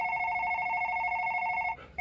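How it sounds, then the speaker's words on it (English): A telephone emits a steady, loud electronic tone while a number is punched in, ending with a brief shift in the sound; no one speaks. "He's punching in our number."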